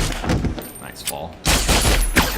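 Gunfire in the Hitman video game: bursts of rapid shots in two clusters with a brief lull between, loud and close, with some talk mixed in.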